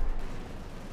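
A Panzer IV fires in Company of Heroes 2, giving a dense, loud, booming blast that fills the brief moment with rumbling wideband noise.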